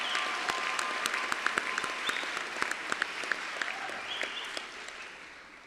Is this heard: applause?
yes